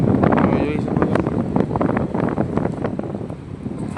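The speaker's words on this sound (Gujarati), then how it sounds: "દરિયાકાંઠે તમને પવન ફૂલ લાગતો હશે" Steady seaside wind at Dwarka buffets the microphone with continuous low rumbling gusts, while people talk over it throughout.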